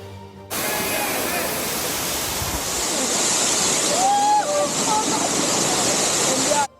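The Rishang waterfall roars as a loud, dense and constant rush of falling water close at hand, with faint voices now and then under the noise.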